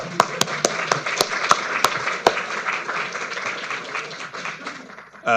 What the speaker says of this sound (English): Maybe applause for them